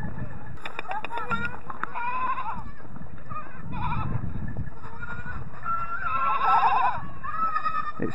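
Baby goats on a farm in Portugal bleat in short, high, wavering cries, several overlapping from near and farther off, amid rustling, a few bird calls and occasional talking.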